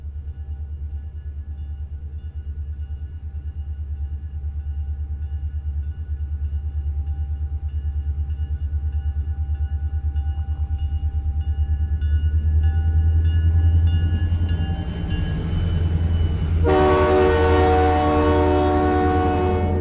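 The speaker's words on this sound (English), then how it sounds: "I think there's a train coming." A train rumbles past at steady, loud volume, and a sustained horn blast joins near the end; no one speaks.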